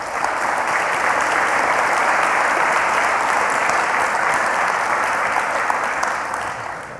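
Loud, sustained applause from a large conference audience, steady clapping throughout that tapers slightly at the end.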